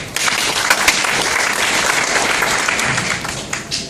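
An audience at a talk on pyramid schemes applauds, a steady continuous patter of many hands clapping, moderately loud, with no talk over it.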